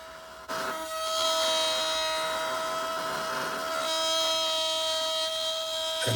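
A palm router whines steadily as it cuts into wood, a loud continuous high-pitched drone with a sharp start and stop.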